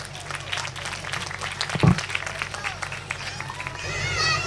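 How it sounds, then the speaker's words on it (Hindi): Audience at a Christmas festival with orphan children in Youhanabad applauds and cheers in a busy, crowded hall, a steady mix of clapping and crowd noise with a loud thump partway through and voices rising near the end. "आपकी ज़ोरदार तालियां"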